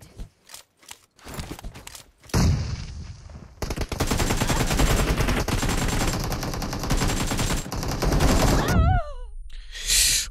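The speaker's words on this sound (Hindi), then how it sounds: "बड़े गंदे फायर पड़ रहे हैं यार इसके" Sustained heavy gunfire in PUBG Mobile, loud dense automatic bursts running for several seconds after a few isolated shots, ending with brief whooshing effects.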